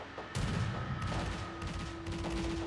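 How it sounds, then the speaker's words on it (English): Anti-aircraft guns on a warship in World of Warships keep up loud, rapid, continuous fire, dense booming bursts running throughout with a faint steady tone underneath. "Now, I hear my AA guns go off."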